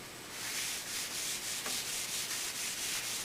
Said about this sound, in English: now I'm going to lightly sand that just to take away any little roughness